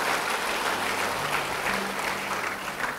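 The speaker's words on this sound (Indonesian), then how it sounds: "Yang percaya beri tepuk tangan bagi Tuhan." A church congregation applauds in praise of God, a dense, steady wash of many hands clapping that fills the whole stretch without letup, with no talk over it.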